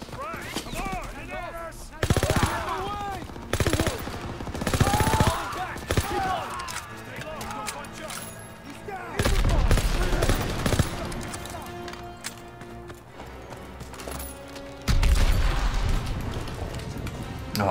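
Rapid bursts of submachine gun fire in the Call of Duty WWII single-player campaign, loud and dense, with blasts and heavy booms breaking in and a voice talking over parts of the fighting.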